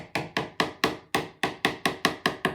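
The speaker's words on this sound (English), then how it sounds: "I mean, I could probably tap the paintbrush on something that would make less noise" A paintbrush handle rapped repeatedly against a hard surface to splatter paint, eleven sharp close taps in a steady quick rhythm with no talking.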